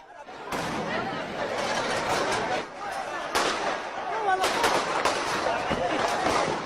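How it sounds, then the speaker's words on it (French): Several sharp gunshots from snipers crack out at irregular intervals over a busy background of crowd noise and commotion at a street gathering in Venezuela in 2019. "Des coups de feu retentissent."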